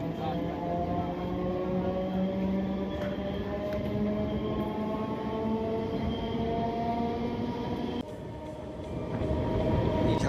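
A MEMU passenger train bound for Howrah running steadily, a continuous loud rumble with a droning hum, briefly dipping before picking up again.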